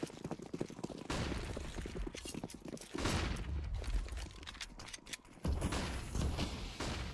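Counter-Strike gunfire crackles in rapid bursts and sustained volleys, fairly loud and dense, broken by short lulls during a competitive match.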